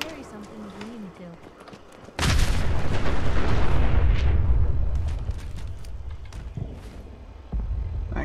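A grenade going off in Fallout 4, a sudden heavy low explosion that rumbles loudly for several seconds and slowly fades, with speech before and around it.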